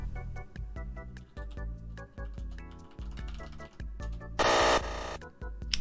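Computer error sound effect: a series of quick electronic beeps and ringing tones in an uneven pattern, cut by a brief burst of bright noise near the end, faint and alone without voices.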